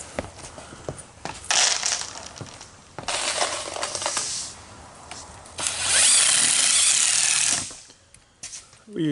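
A power drill drives special wafer head screws into marked spots, with several loud, sustained whirring bursts separated by short pauses and clicks, close by with no talking.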